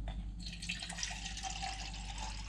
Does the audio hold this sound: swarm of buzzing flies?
no